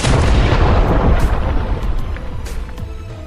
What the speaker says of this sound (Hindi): उसी समय पूरे कब्रिस्तान में जोरदार धमाका हो जाता है